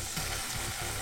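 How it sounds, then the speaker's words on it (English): Thick bacon sizzles steadily in a frying pan over low heat, a dense continuous crackle and hiss heard close up without any talking. "I like how much sizzle is happening already"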